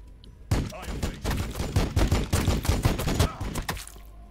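Dense, rapid gunfire from Warhammer 40,000: Battlesector, a sustained barrage of overlapping shots and bursts lasting several seconds, loud and close with no talk.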